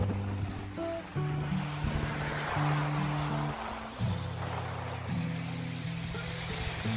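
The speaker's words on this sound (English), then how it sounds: "That is the waterfall that I'm looking forward to see with my own eyes." Låtefossen waterfall in Norway, a continuous rushing roar heard at a distance, mixed with wind buffeting the microphone and tonal background music.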